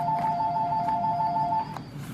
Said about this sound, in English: Oh, I forgot to turn off my phone again.